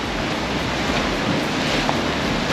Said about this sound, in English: I can practically hear the waves below us, beckoning us to dive in for a quick swim.